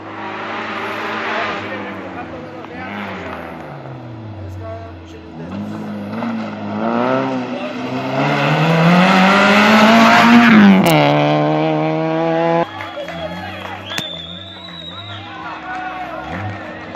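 Rally car at the Rallye de A Coruña on asphalt, engine revving up and down through gears, swelling to a loud close pass before fading away, with people talking and crowd noise around.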